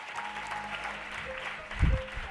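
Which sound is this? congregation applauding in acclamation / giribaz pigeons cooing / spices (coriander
congregation applauding in acclamation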